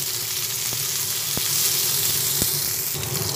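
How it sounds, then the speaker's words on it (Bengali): Chopped tomato and spices for a masala fish curry fry in a hot pan with a steady, close sizzle and a few sharp utensil clicks. "একসঙ্গে সব ভেজে নিচ্ছি"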